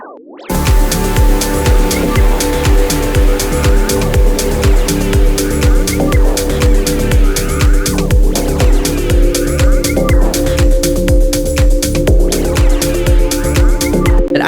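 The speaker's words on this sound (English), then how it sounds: "I took a small section of that really cool warping effect, and I looped it over and over" A loud electronic synth loop of a short warping effect section, with a wobbling tone, repeats in a steady pulsing rhythm over a driving beat in a deep progressive house drop.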